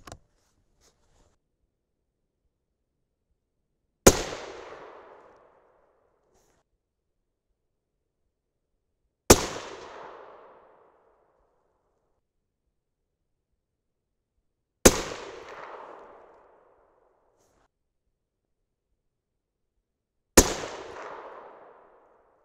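6.5 Creedmoor rifle firing 130gr Sierra Game King loads at a shooting range: four loud, sharp shots spaced roughly five seconds apart, each with a short decaying echo, and silence between.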